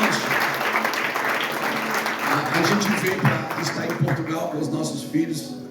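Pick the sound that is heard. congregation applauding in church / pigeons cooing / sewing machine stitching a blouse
congregation applauding in church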